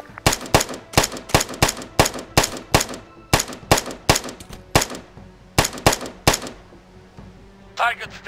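Rapid gunfire from soldiers in ARMA 3 cracks out in a steady string of loud, sharp shots, briefly pausing before another burst, ending with a short radio-style voice.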